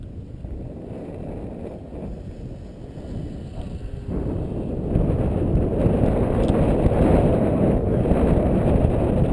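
Gusty wind buffeting a microphone outdoors during a July 4th R/C model plane flight, a dense low roar that grows stronger and rougher partway through.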